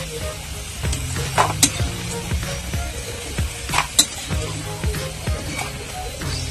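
Potato pieces for aloo chaat fry crisply in hot oil, a steady close sizzle punctuated by light clinks and stirring scrapes of a utensil against the pan.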